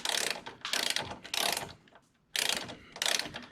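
A torque wrench ratchets on the bolts of a strut bar being installed on a 2018-or-newer Honda Accord, giving several close, loud bursts of rapid clicking separated by short pauses.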